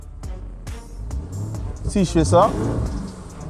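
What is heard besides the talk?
Lamborghini Urus engine revving in Strada mode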